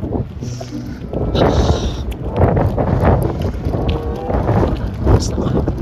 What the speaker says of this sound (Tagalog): Mahangin nga lang talaga.